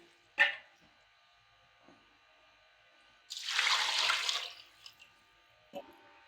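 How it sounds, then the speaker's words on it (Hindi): Water poured into a cooking pot for chicken feet stock, a short splashing burst of a second or so between quiet gaps with small clinks of the pot. "अब हम इसमें पानी डाल के ये ऊपर रखेंगे"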